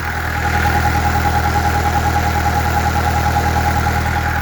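A 2012 Kubota L4508 farm tractor idles up close with a steady, even diesel rumble and a faint whine riding on top, continuous and unbroken, with no voices.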